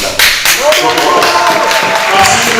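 An audience at a political gathering in the Republic of the Congo applauds, with sharp claps landing over a voice speaking through a loudspeaker, the clapping rather sparse and irregular.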